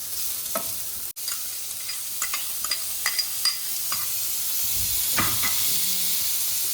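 Chicken cooked without oil being stirred in a pan, with repeated close scraping strokes and clicks over a soft steady sizzle, no talk.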